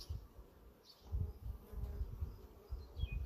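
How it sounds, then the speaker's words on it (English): A dense, steady buzzing of an active honeybee hive heard up close during an inspection, with bees fanning, swelling in low pulses, with no voices. "Sound of my hive is active."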